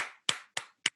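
Four sharp, isolated hand claps ring out one after another at an even pace, close and crisp, with silence between them.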